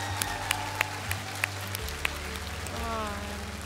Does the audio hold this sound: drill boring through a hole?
no